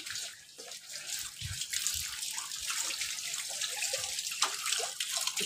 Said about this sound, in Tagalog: Itong tubig na to ay galing doon sa rooftop.